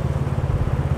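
A motorbike rides through Biên Hòa, its engine a close, loud, pulsing low putter with a quick, even rhythm and no voices over it.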